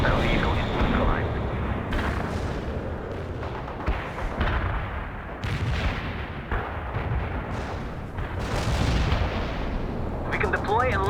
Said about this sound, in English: Artillery strike on the way. Heavy fire support here.